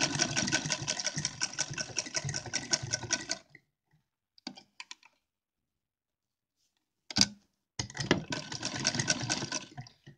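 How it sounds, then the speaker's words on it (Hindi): Sewing machine running steadily as it stitches fabric for a deity's dress: a long burst of stitching, a pause with a few faint clicks and a thump, then the motor whirring through another stretch of stitching. "अब जैसे हमने इधर सिलाई चला दी है, ऐसे ही हम दूसरी साइड भी सिलाई चला देंगे।"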